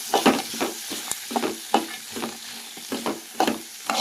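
Pigeon peas with chili powder sizzle softly in a pan while a spoon stirs them in repeated scraping strokes, close and steady with no talking.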